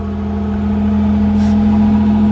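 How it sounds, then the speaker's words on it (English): A 1983 Buick Regal with its factory 3800 engine and dual exhaust runs steadily at close range, a deep, even engine drone that builds slightly in loudness across a couple of seconds. "I got the dual exhaust on it."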